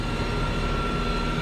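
Steady broadband engine drone from a 2005 Kubota M105X tractor, a 105-horsepower M series machine used for hay cutting, heard close and continuous without talk.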